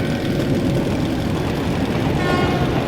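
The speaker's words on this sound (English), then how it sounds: "That's the train!" An approaching train in the video game Metro Last Light: a loud, steady rumble with a horn-like tonal blare building slightly over three seconds, with no talk.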